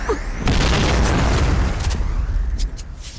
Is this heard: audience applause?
no